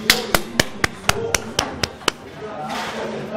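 Applause at the final of an amateur three-cushion billiards tournament: about nine sharp, evenly spaced claps or taps ring out in a steady beat over a murmuring hall, then give way to a soft crowd hiss.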